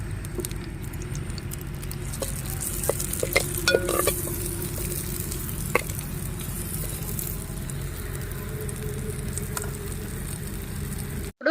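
Chopped onions fry in oil in a pan on a gas stove, giving a steady, close sizzle broken by scattered clicks and scrapes of stirring.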